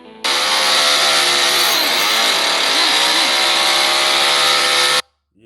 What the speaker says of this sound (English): they start the chainsaw